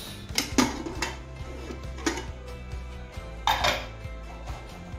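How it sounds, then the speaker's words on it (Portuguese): A cooking pot lid is lifted off a pot of braised beef ribs with potatoes, giving a few light metallic clinks and clatters spread over several seconds, close by and fairly quiet, with no talking. "Tô abrindo aqui a panela."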